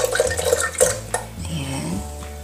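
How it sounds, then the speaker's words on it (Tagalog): A spoon stirs milk and yogurt together in a jar for homemade Greek yogurt, with close clinks and scraping against the container and a light liquid swish. "Tapos, mix natin. Ayan. Mix mo ng ayos."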